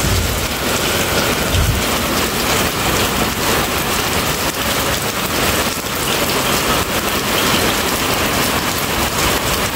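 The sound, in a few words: heavy first rain of the season with thunder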